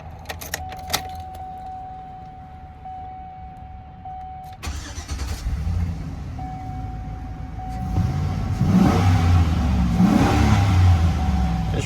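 Keys jingle, then a 2004 Chevy Silverado Z71 4x4 engine cranks and catches, settling into a steady idle before revving louder toward the end, with a chime sounding in the cab.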